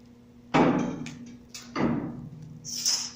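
A press brake clamps and bends sheet metal into a Z clip with a reverse kick, giving two heavy, close thuds about a second apart, each ringing briefly over a low steady hum.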